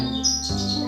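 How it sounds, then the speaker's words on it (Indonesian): Brief, high-pitched bird chirps ring out clearly over a low steady background hum, lasting about a second. "itu adalah suara burung berkicau."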